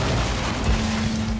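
An explosion in Warhammer 40,000: Inquisitor - Prophecy lands as a brief low boom over a dense rumbling game soundscape, with a steady hum running underneath.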